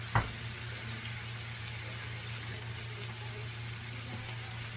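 Onions dropped into hot bacon grease in a pan give one soft thud, then a steady, even sizzle that holds at moderate level throughout, with a low hum underneath.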